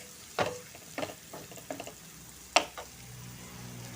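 Chopped onion cooking in a pan for cutlets: a faint, steady sizzle broken by several sharp stirring clacks and scrapes at irregular intervals, close by, with no talking.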